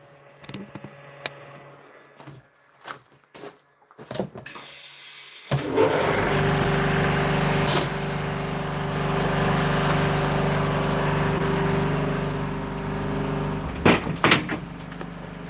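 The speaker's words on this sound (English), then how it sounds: "So that's the big compressor I bought here running." A 50CFM single-phase air compressor kicks on after a few quiet knocks and clatters, then runs loud and steady with a constant motor hum for about ten seconds before winding down.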